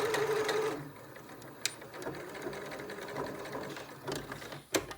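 A sewing machine stitches a fabric face mask on either side of a knot: a short close burst of rapid mechanical stitching, then quieter clicks and handling sounds.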